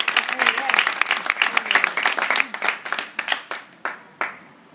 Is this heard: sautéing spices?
no